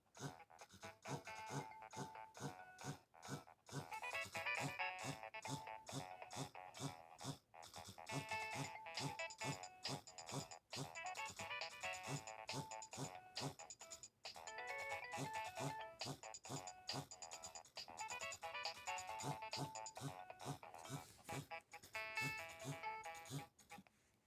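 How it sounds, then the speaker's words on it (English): A polyphonic Nokia ringtone from a 3120 or 1650 handset plays loud and steady, a bright looping melody of quick regular notes with brief pauses between phrases, running alone without voices. "One day this will be my actual ringtone."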